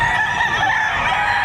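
Rooster crowing amid a busy Batangas chicken market, a sustained loud call that fills the short stretch over constant market background noise.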